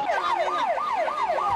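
An ambulance siren wails at a disaster scene, its tone sweeping rapidly up and down in a steady, repeating pattern, loud and close with no voices over it.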